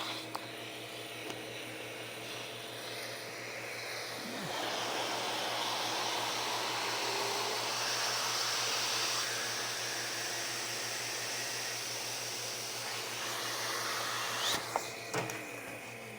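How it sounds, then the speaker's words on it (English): A vacuum pump in a woodworking shop's veneer press setup runs steadily, evacuating air with a broad, even hiss and hum that swells slightly midway and holds until a few soft clicks near the end. "we have another vacuum just to evacuate the air quicker"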